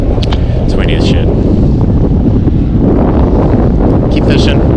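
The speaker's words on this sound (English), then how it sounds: "it's windy as shit" Strong sea wind blasting across the microphone aboard a fishing boat, a loud continuous roar with gusty rumble, broken by brief voices speaking under it.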